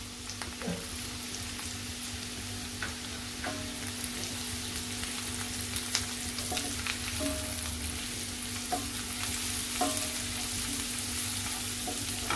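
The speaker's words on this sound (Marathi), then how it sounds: "आता आपण हिंग आणि हळद घालूया।" Asafoetida and turmeric sauté in hot oil for a bhendi mirchi dish, giving a steady soft sizzle with occasional light clicks of stirring, close and unbroken, no voices.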